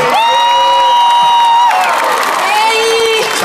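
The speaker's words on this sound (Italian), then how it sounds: "vorrei un mega applauso per" A crowd cheers, whoops and applauds to welcome a guest singer at a summer radio event, loud and close, with a sung or called-out voice sliding above the clapping and shouting.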